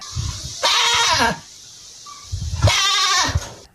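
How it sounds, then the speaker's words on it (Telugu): A well-fed goat with a rope tied around its neck bleats twice in a radio story, each call loud and drawn out, separated by a short pause. "మేక మెడలో త్రాడు కట్టి బలంగా లాక్కుని పోతుంటే విధిలేక సాగుతూ నడుస్తోంది ఆ మేక"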